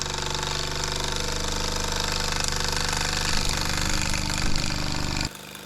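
Mamod toy steam traction engine running under steam, a steady mechanical chugging with a continuous hiss, fairly close and even throughout, cutting off abruptly near the end.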